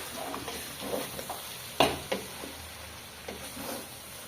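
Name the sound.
rice being fried in a pan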